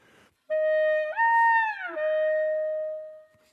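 A clarinet sustains a note, glides smoothly up in pitch, holds, then slides back down to a long steady tone, played alone in a quiet room.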